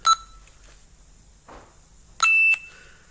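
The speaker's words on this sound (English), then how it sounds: "We have our doors successfully locking with a confirmation back to the cell phone." Door lock confirmation beeps from a 2007-2011 Honda CR-V triggered through a remote start phone app: a short beep, a brief soft sound in the middle, then a louder sustained beep, close and with no talk.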